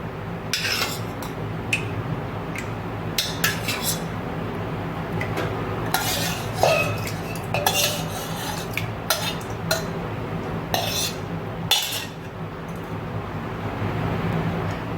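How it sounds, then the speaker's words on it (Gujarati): Full-fat curd spooned into a blender jar for a dry fruit lassi, giving a run of close clinks and scrapes of a spoon against the jar with soft wet plops and no voices. "તો હવે આ એક જારમાં નાખીશું આપણે"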